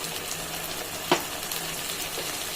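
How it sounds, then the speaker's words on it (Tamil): Ground tomato is poured into sautéing onions in a pan for an anchovy fish curry. A soft, steady sizzling hiss runs throughout, with one brief clink partway through. "வெங்காயம் நல்லா வதங்கின பிறகு ரெண்டு தக்காளி அரைச்சி வச்சுருக்கேன் அதுவும் ஊற்றிக்கிடலாம்"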